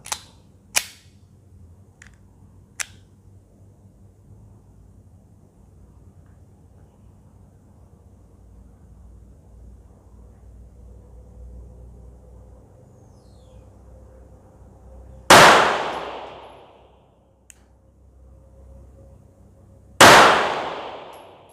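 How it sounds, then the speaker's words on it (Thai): Gunshots from a SIG P365 pistol fired with its compensator removed, heard as loud, sharp, close reports with long echoing decay in open air; a couple of fainter cracks come early, then two powerful shots about five seconds apart. "ถอดคอมแล้วก็ยิงเปรียบเทียบให้ดู ว่ามันจะเป็นยังไงบ้างนะครับ สองนัดบรรจุนะครับ"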